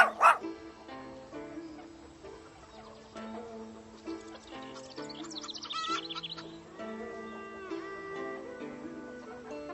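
A cartoon dog gives a few quick woofs and yips with a brief whimper, set over soft background music while a narrator speaks.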